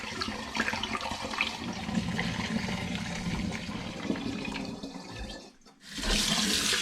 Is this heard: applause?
no